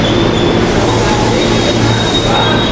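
A KRL commuter train rumbles loudly through Tanah Abang station, its wagons rolling with a steady low roar and a thin high wheel squeal, close and continuous.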